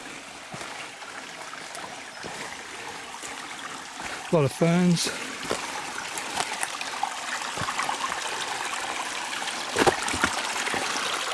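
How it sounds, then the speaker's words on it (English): Steady broadband rush of flowing creek water in the Blue Mountains runs throughout, with someone speaking briefly over it midway. "yeah, you can see the creek down here."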